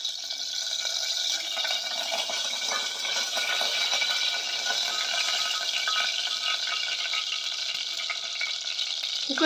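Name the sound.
peanut oil added to pan, heating and sizzling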